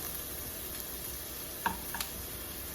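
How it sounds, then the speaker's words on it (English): Onions sautéing in olive oil and butter give a soft, even sizzle at moderate distance, with a couple of brief utensil clicks near the end and no speech. "Okay, got my onions going."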